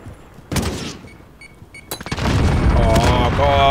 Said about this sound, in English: Every grenade in the game is landing on me.